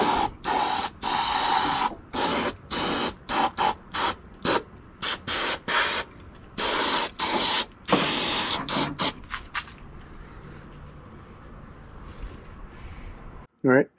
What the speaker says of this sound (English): Just spray it nice and thick.